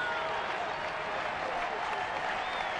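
A home crowd at a baseball game applauding and cheering, producing a steady wash of clapping that sits under a play-by-play announcer's voice.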